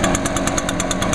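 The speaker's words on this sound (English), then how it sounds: "both of these backpack blowers, their noise level is 70 decibels, to me, this one seems quieter" Echo backpack leaf blower with its two-stroke engine running steadily at high revs, a loud, close, continuous drone with a faint rhythmic pulsing.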